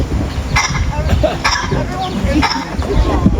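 A parrot at a bird show at African Lion Safari in Ontario, Canada imitates human coughing, producing a few short raspy coughs with gaps, heard over background noise and some talking.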